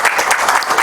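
A tech-day audience claps in a short, dense burst of applause.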